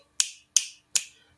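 Three crisp finger clicks as body percussion, evenly spaced about 0.4 seconds apart, close and bright, each ringing briefly against a silent background.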